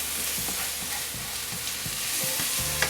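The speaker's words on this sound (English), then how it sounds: "pop the flatbread on top of here, give it a good turn around, mush it in" Flatbread sizzles steadily as it is pressed and turned in a pan with lamb juices, a close, continuous frying hiss broken by soft scraping and stirring knocks.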